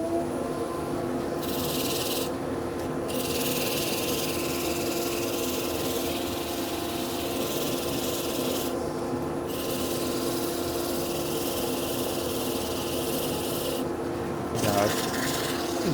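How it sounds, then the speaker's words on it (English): Steady rasping of 150-grit sandpaper on a wooden chopstick or rice bowl, with a dust extractor droning underneath throughout and brief pauses in the stroking. "sand time, so we'll bring the extractor back in on 150 grit."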